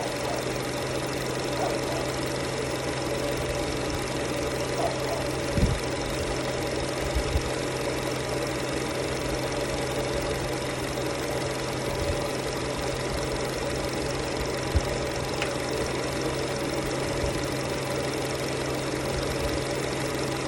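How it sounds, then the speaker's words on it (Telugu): A Skoda Rapid 1.6-litre petrol engine with about 2.5 lakh km on it idles steadily after a carbon-cleaning treatment. It gives a continuous, even hum with a low drone and faint ticking, and no voices are heard. "ఇంజన్ నాయిస్ కూడా చాలా క్లియర్గా రెడ్యూస్ అయిపోతూ ఉంది"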